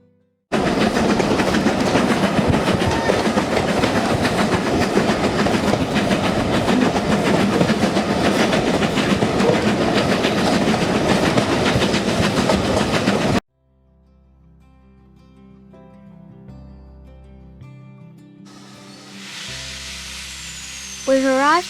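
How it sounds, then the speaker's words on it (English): A heritage train pulls out of Goathland station on the old railway line toward Pickering, rumbling and clattering loudly for several seconds before the noise cuts to a quieter, more distant engine drone with tonal hums fading away. "on the footbridge watching our train leaving and heading for Pickering"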